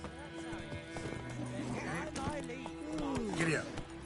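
A horse in The Witcher 3 game trots with rhythmic clip-clop hoofbeats, joined by snorts and a whinny, under music and voices talking.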